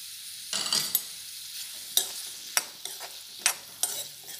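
Medium onions sliced lengthwise frying in about two and a half tablespoons of oil until golden brown, with a steady sizzle broken by repeated sharp scraping stir strokes at a close, even rhythm, no voices.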